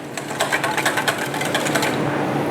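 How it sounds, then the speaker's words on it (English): A whisk beats a breadcrumb coating mixture in a bowl for chicken Kiev, making a rapid, rhythmic metallic clatter that is close and fairly loud throughout this short burst. "give that a little bit of a whisk until you can see everything's fully combined nicely"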